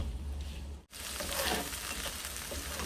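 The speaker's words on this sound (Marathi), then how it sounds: "हे आपण ज्या भाज्या घातल्यात ते आपल्याला शिजवायचे नाहीयेत, हलक्याशा परतून घेणार आहोत" Mixed vegetables lightly sautéing in a pan for vermicelli chow mein give a steady, close sizzle, broken by a brief dropout near the start, with faint scraping in the background.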